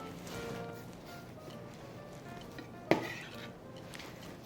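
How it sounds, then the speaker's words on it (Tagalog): Chopped kimchi is moved from a cutting board into a cooking pot, making soft scraping and shuffling kitchen noise, then a single sharp clatter of utensil against the pot near the end. "Diretso ko na siya sa ating pot na ating kaldero."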